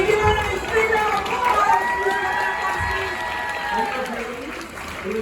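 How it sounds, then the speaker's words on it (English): A crowd keeps applauding and cheering during a magic show on a Royal Caribbean cruise ship. The steady loud clapping runs throughout, with whistles and voices mixed in. "keep applauding"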